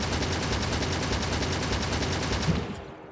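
Gun turrets fire continuously in the video game Factorio, a dense rapid rattle of automatic gunfire that holds steady and loud for about three seconds and then cuts off abruptly, with no talking.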